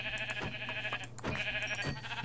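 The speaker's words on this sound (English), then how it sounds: "Oh, hello sheep." Sheep bleating in the video game Minecraft, several short bleats spaced across a steady background music bed, with no talk.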